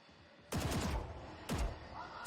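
Gunfire in the tactical shooter Valorant: two sharp, loud gunshots about a second apart, each with a booming tail, over quiet game ambience.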